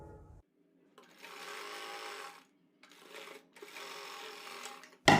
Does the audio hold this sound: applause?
no